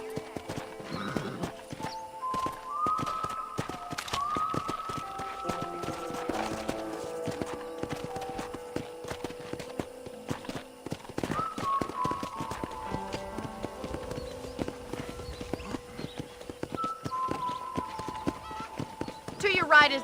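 Horse hooves clip-clop at a steady riding pace through a ranch in Red Dead Redemption, with occasional whinnies under continuous talk and background game music.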